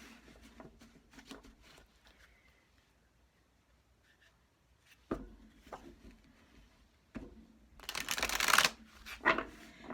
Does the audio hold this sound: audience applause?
no